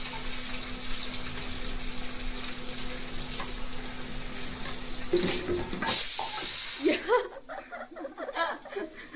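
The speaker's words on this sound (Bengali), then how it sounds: "ওই দেখ না জল পড়ছে।" A tap runs in a kitchen, a steady close rush of water that swells and then stops abruptly, after which a voice talks over faint background noise.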